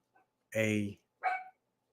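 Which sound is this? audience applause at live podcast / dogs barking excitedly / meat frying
dogs barking excitedly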